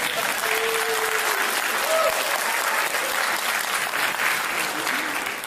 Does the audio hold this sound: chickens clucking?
no